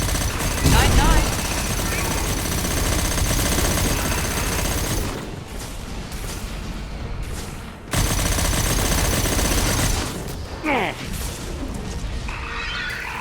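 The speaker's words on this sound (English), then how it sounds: "Firing anti-ship batteries at collector vessel." Anti-ship batteries fire in the game Mass Effect 2 as heavy, rapid booming bursts layered over a dense roar, loud and close, briefly dropping away before resuming, with a voice talking in places.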